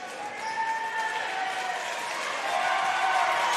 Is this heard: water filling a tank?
no